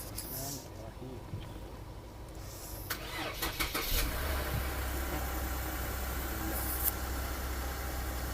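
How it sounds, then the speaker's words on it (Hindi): Lexus IS250 with a dead battery cranking on a portable jump starter, then catching and settling into a steady idle hum, heard up close with a person talking over it. "as you can see that इस छोटी सी चीज़ ने मेरी गाड़ी स्टार्ट कर दी है"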